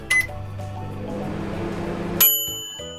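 A microwave oven finishing at 600W after heating cabbage in a heat-proof bowl, giving a couple of clear electronic beeps around a steady hum of the running oven.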